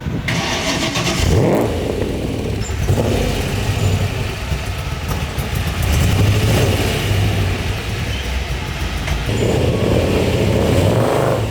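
A powerful AC Cobra sports car engine roars and revs hard throughout, loud and close, with surging pitch as the tires break loose.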